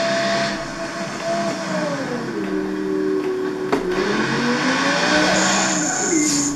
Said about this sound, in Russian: Сильный занос, 170.